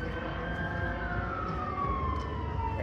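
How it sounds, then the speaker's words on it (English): Emergency vehicle siren passing on a Las Vegas street at night, a long descending wail sliding in pitch over a dense traffic and engine rumble, moderately distant. "Sirens and motorcycles."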